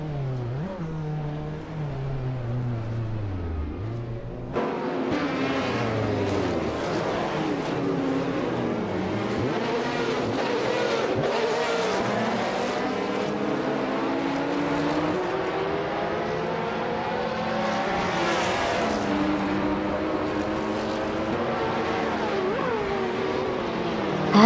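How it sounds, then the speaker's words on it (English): Engines of AI-driven race cars in a simulated race, revving and accelerating in sweeping pitch glides that overlap continuously, loud and close, with passing cars whooshing by throughout. "We're about to watch some exciting AI car races."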